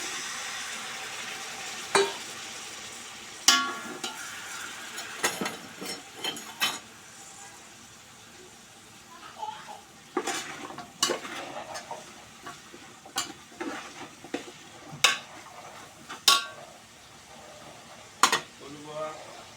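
Potato, chilli and carrot fry in a pan under a quiet, low sizzle, broken by intermittent sharp scrapes and clacks of stirring.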